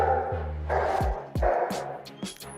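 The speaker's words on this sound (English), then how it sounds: "I don't know if you can hear my dog barking downstairs" A dog barking from downstairs in a house, several deep woofs in an irregular run with a short whine between them, fairly near and clear, with no speech over it.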